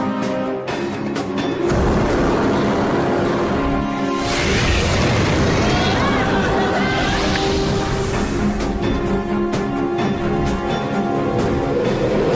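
Fire bursts out as platinum combines with oxygen and hydrogen and combusts: a sudden roaring whoosh swells about a third of the way in and lasts several seconds over a dense, continuous background of sound.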